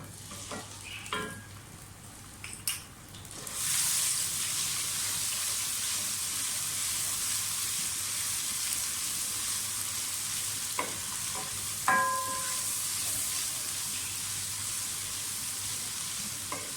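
Garlic ginger paste sautés in a pan for a bhuna qeema, a soft steady sizzle with a few sharp clinks of a spoon against the pan near the start and around twelve seconds.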